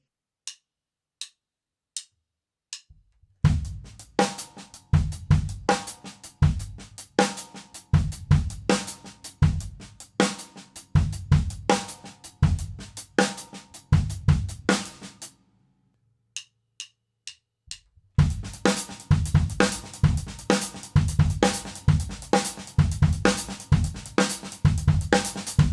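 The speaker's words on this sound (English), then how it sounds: "This is going to have a bass drum on 1, a bass drum on 3, and the end of 3." Linear drum groove played on a kit, with sharp clicks counting in before a tight pattern with bass drum on 1, 3 and the end of 3. The beat stops briefly, then a second click count-in leads into a denser pattern.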